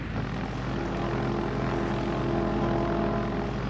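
A propeller airplane engine warming up on the ground before a flight, a steady droning hum with a low throbbing tone that holds even and loud throughout, no voices.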